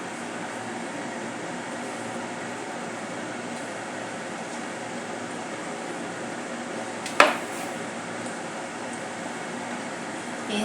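Rice pocket snacks frying in hot oil make a steady, even sizzle and bubbling hiss throughout, with one brief clatter partway through.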